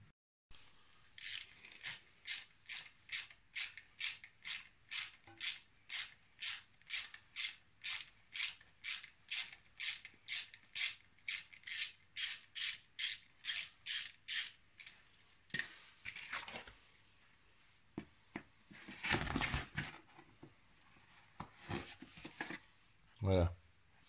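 A ratchet backing out the clutch cover screws on a 1997 Suzuki 1200 Bandit motorcycle, a long run of rapid, evenly spaced clicks, then scattered clicks and metallic handling noises, close and fairly quiet.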